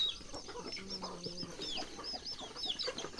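Several chickens cluck softly amid outdoor ambience, with scattered higher bird chirps overhead; no one speaks.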